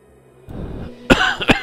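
A person coughs twice close by, short harsh bursts after a brief throat-clearing rumble.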